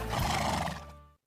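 Horse neighing as a sound effect in a radio advert, one loud, close whinny that fills the clip and cuts off abruptly near the end.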